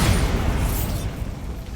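A Bombarda spell explosion in Hogwarts Legacy, a single loud booming blast that fades over about a second with a whooshing tail.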